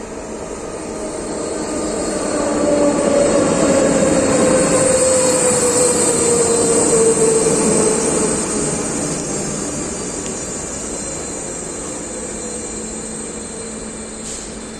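A passenger train with a control car rolls past at a station in Český Těšín, a loud steady rumble and whine that swells and then slowly fades, with no voices.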